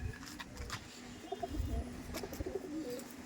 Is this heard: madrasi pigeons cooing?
yes